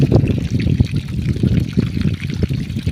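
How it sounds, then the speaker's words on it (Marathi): Water pours and trickles steadily into an earthen basin around the base of a chikoo tree outdoors, a continuous gurgling splash close by, moderately loud, with no talk over it. "चिकूच आळं भरले की आंब्या झाडाला सोडायचं पाणी"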